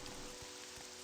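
Rain falls in the video game Morrowind, a faint, steady patter with a soft hiss and no speech.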